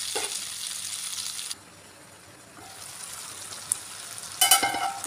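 Tomatoes and tamarind cook in a pan for cucumber pickle, giving a soft sizzle that drops away briefly, then returns with a louder crackling burst near the end.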